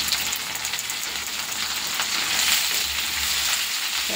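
Rice with drumstick leaves, fried garlic, turmeric and salt frying in a pan while being stirred and mixed, a steady bright sizzle with soft scraping, close up and with no talking.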